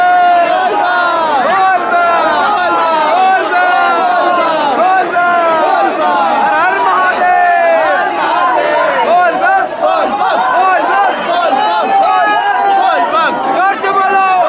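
Dense crowd of kanwar pilgrims on a Bol Bam yatra in front of a temple court, loud continuous babble with many voices shouting and chanting close by, steady throughout.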